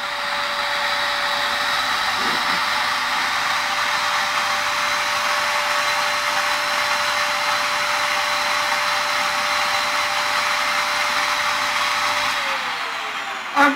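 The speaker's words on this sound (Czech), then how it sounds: "Zapnu si vysavač" A vacuum cleaner runs close by with a steady, loud whooshing whine for about twelve seconds, then switches off.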